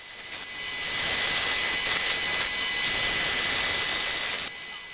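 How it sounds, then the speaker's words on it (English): A lathe machines out a part so a stepper motor fits, as part of a power feed upgrade for a Warco milling machine, producing a loud, steady broadband whir and hiss that holds for several seconds before cutting off. "with all the jaws on the chuck all now tightened, we can now begin to machine that out until the stepper motor fits in there really nice"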